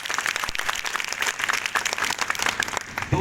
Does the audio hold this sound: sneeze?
no